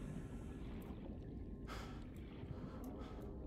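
Heavy, quick breathing close to the mic while playing Subnautica, with gasping inhales standing out over a faint underwater ambience.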